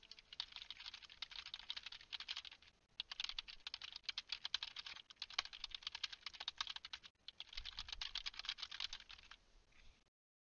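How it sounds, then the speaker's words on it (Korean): Rapid, busy clatter of computer keyboard keys and mouse buttons being pressed in bursts with brief pauses, picked up by an ASUS TUF Gaming H3 Wireless headset microphone; fairly close and steady, no talk. "주변 소리를 어느 정도로 수음하는지 키보드와 마우스 버튼을 눌러보겠습니다"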